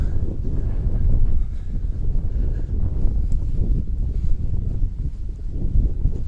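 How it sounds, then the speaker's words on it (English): Strong wind buffets the microphone with heavy low rumbling gusts, continuous and loud throughout, with no voices, in Naze, Amami Oshima, Japan. "It's very, very windy now."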